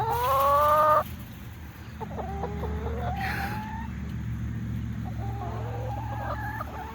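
Chickens on a farm cluck and call repeatedly in short bursts at close range, with a louder squawk at the start and steady low background noise.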